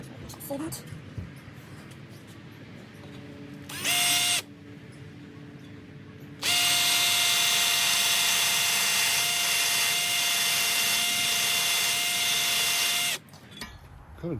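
A power drill works holes through a Givi Monokey top box mount for an Outback Trekker 42L box, with a short burst followed by a long steady whining run at close range, pressure eased intermittently; faint background noise fills the gaps.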